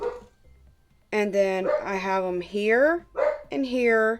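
Someone talks in a home setting while a dog barks and yips loudly several times close by, the barks mixing with and partly overlapping her voice.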